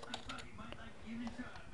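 Keyboard typing as a project name is entered on a slow-running computer, a soft, quick patter of keystrokes heard faintly under a man's speech.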